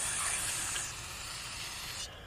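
Carburetor cleaner sprays from an aerosol can onto parts of a 1975 Evinrude 6HP outboard carburetor, a steady close hiss that runs alone for about two seconds before cutting off sharply.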